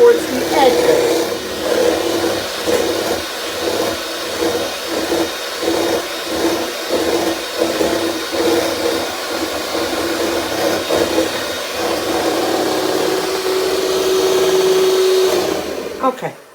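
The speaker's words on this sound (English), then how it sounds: "And I'm keeping my mixer in the center now because I pushed" An electric hand mixer runs at level 3, whipping a thick refrigerator dessert mixture in a bowl. It gives a steady whir with rhythmic dips as the beaters move, loud and continuous, with faint talk at times.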